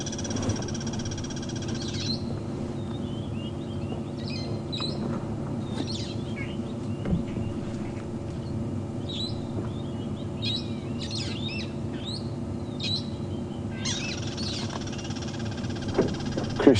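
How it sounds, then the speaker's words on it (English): Crested barbets and parrots call around an African safari drive at sunrise, repeated chirps and trills over a steady low engine hum, moderately distant. "Crested barbets and parrots calling around us."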